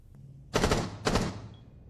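Rainbow Six Siege gunfire in a small, dry carpeted room: two loud, short automatic bursts separated by a brief pause, each ending abruptly with little echo, over a low background hum.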